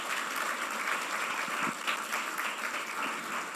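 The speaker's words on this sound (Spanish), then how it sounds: "Denle un aplauso al Señor, maravilloso." A church congregation claps together in praise, a steady, moderately distant wash of applause that holds evenly throughout.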